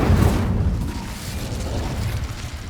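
An Incendio fire spell in Hogwarts Legacy bursts out as a loud, deep whooshing blast that roars at once and then decays into a rumbling tail over a few seconds.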